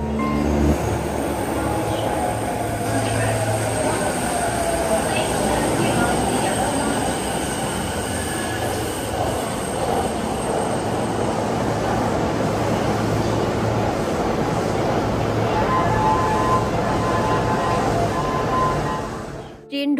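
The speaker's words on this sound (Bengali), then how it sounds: "ট্রেন যেই ঢুকলো সেই গেটটা খুলে গেল, আর ট্রেন যেই গেল অমনি গেটটা বন্ধ হয়ে গেল।" A commuter train at Ueno, Tokyo passes through the station with a sustained loud rumble, wheel squeal and rail noise lasting the whole stretch. Faint voices mix in the background.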